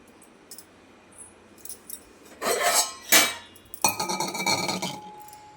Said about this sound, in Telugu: గిన్నెలు వేసుకోవాలి